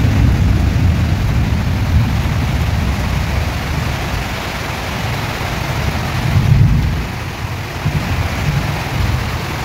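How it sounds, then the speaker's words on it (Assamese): Heavy monsoon-style downpour hissing steadily with deep rolling thunder rumbling underneath, loud and close, a stronger swell of rumble midway, no voices. "আমাৰ এইফালে একদম পুৰা ধম ধমা বৰষুণ"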